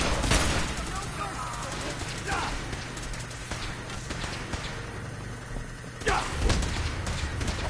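Gunfire in the Fallout 4 video game, a dense run of bursts and rapid shots over a steady rumble, with a few louder cracks near the start and end and a game voice calling out over the shooting.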